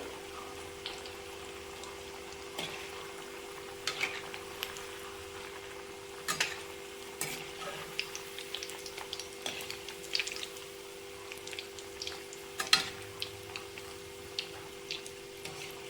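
Boiled-vegetable chops deep-fry in oil, giving a soft, continuous bubbling with scattered faint crackles and pops, fairly quiet and without voices.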